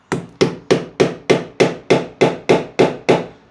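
A hammer strikes a pointed bit held in a handle against a wall to make a starter hole, ten sharp, evenly spaced taps ringing out close and loud.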